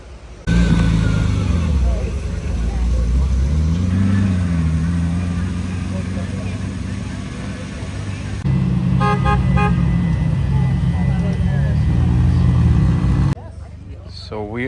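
A matte blue Porsche 918 on a Palm Beach street, its engine note rising and swelling loudly up close, then a steady bright horn-like tone sounding over the roaring engine before cutting off abruptly.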